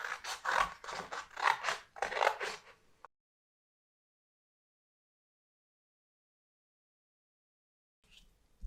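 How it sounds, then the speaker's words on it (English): Scissors snipping through a piece of cardboard along a drawn line, a quick run of crisp rhythmic cuts up close, then silence, with a faint rustle at the end. "the next thing you need to do is cut along the line."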